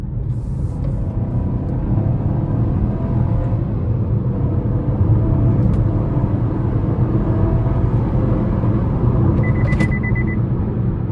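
A 2026 Chevrolet Trax ACTIV with a 1.2-liter turbocharged engine accelerating on the road, heard from inside as a steady, loud low rumble and whir of engine and road noise, with no talking.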